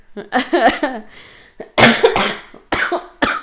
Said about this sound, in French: tu me fais tousser